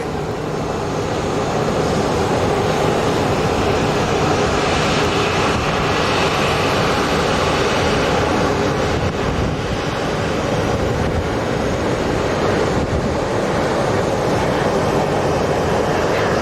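Southwest airliner from Midway landing on runway 25 right at Sky Harbor International Airport at night, a steady broad roar of jet engines that fills the whole stretch, loud and unbroken, with no talk.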